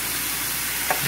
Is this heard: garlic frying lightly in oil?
yes